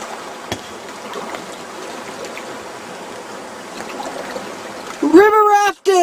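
Steady rushing and trickling water of river rapids around a raft, a constant near wash with a voice breaking in loudly near the end.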